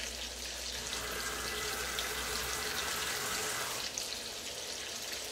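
Tap water runs steadily into a cooking pot being filled for boiling spaghetti, a continuous close hiss and splash that shifts slightly in tone partway through as the level rises, with no talking.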